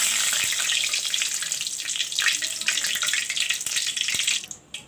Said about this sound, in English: Put the bay leaves.